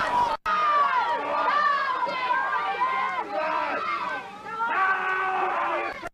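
A crowd at a 1979 British strongest man contest yells and cheers a straining strongman on, loud overlapping shouts and voices throughout, with someone shouting encouragement.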